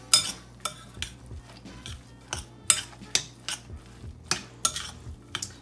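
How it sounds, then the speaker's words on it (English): Stove Top stuffing mix being stirred with a utensil in a pot, giving a series of rhythmic scraping clinks about twice a second with soft moist shuffling between strokes, close and clear. "So I'm going to stir all this up so that it absorbs everything."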